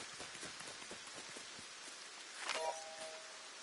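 Rain in the Fortnite Lego video game hisses as soft, steady, fairly quiet patter. A brief brighter swell with a faint tone rises near the end.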